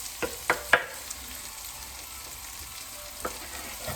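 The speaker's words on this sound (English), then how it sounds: "we're going to fry up some very finely chopped onions" Very finely chopped onions frying in a pan, a soft continuous sizzle with a few sharp clicks and scrapes early on and another near the end, no talking.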